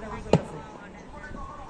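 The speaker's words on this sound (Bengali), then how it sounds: "খালি গুলি চলতেছে" A single sharp gunshot cracks once during a clash as a crowd surrounds Basan police station in Gazipur, followed by a low background murmur with voices.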